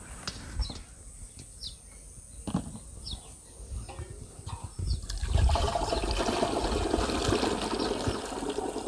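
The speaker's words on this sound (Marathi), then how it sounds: "आपण आता थोडं पाणी याच्यामध्ये टाकून घेणार आहोत" Water splashes steadily into a container for mixing a herbicide spray after a few seconds of quieter handling noises, the pouring loud and continuous to the end.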